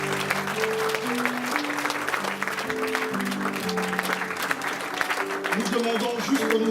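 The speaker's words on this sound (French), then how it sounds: "On acclame le Seigneur." A church congregation applauds and cheers for the Lord, sustained clapping from a crowd in the hall mixed with tonal music and voices throughout.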